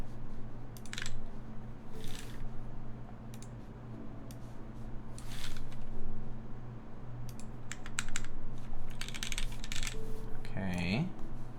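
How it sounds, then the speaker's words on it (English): Keys clatter in a steady typing test on a custom-built TGR 910 mechanical keyboard, close and continuous at a moderate level with a few louder bursts, over a low background hum. "typing test on here."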